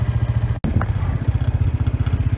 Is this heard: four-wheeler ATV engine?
yes